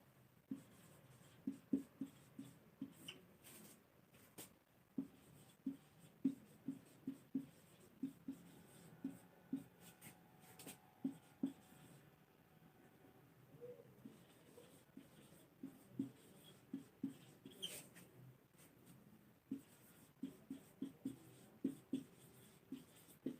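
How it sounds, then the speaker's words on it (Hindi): A pen writes a definition on paper during a Hindi-language theory class, producing quiet, rapid scratchy strokes in short irregular bursts with brief pauses, close and soft, with no talking. "देखिए परिभाषा लिखते हैं"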